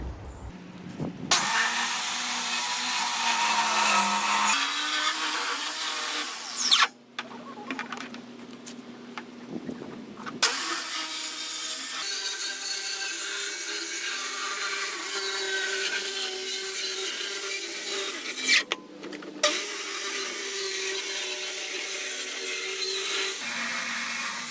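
A plastic 55 gallon drum being cut in half, a steady buzzing tool whine running through the barrel with brief pauses and restarts as the cut rolls around, close and fairly loud with no talking.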